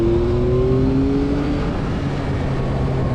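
A 2022 Yamaha MT-09 naked motorcycle with a triple engine revs steadily and loudly up close, its rising tone sustained over a rough engine drone with no talking.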